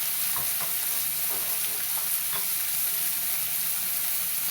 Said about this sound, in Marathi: टोमॅटो पण टाकून घेते लगेच तसं त्याच्यासोबत ते पण परतून जाते